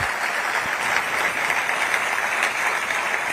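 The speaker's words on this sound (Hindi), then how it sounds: "तालियों से इनका भी अभिनंदन हो।" Dense, steady applause from a large audience at a launch event fills the whole moment, continuous clapping without pause and no talk over it.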